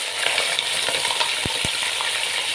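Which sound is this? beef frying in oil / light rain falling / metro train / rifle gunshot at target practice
beef frying in oil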